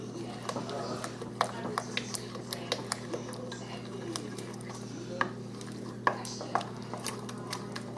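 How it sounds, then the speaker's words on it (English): Wooden spoon stirring a smooth yeast-roll batter in a bowl, with soft scraping and scattered clicks and taps against the bowl over a steady low hum; faint talk may sit underneath. "Going to mix it up with this wooden spoon so it's nice and smooth."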